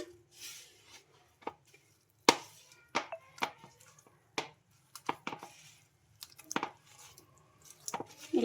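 Sago pearls mixed with milk powder for a rasmalai-style sweet, stirred in a bowl with a spoon, giving a series of close, irregular wet squishes and clicks spread through the clip.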